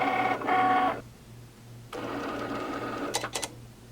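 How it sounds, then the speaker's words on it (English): A Cricut cutting machine slices an adhesive vinyl design on a mat. Short mechanical whirring bursts of the carriage motor are separated by pauses, with a brief quick flurry of movements at the end, close and fairly quiet. "load the mat with your vinyl into your machine and press the button to make the machine cut your design"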